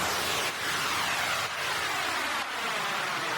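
A dense wash of white noise used as a downlifter effect in music production sweeps steadily downward, its hiss thinning from bright to darker over a few seconds, pulsing slightly every second.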